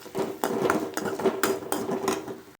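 Masala kolukkattai mixture is stirred in a pan, with a spoon scraping and clinking against the metal in quick repeated strokes, close and clear.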